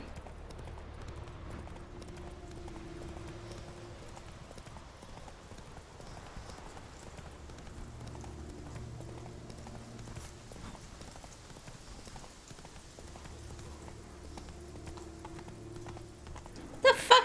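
In The Witcher 3, the horse Roach gallops with soft, rhythmic hoofbeats under a quiet game backdrop, and there is a brief louder knock near the end.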